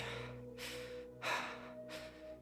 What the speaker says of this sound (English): Wait, he's panting.